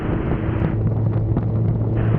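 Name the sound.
strong wind blowing on microphone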